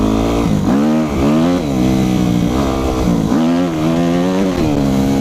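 A Yamaha YZF 250 motorcycle engine revs hard and close during wheelie attempts, its pitch climbing and falling in repeated loud surges.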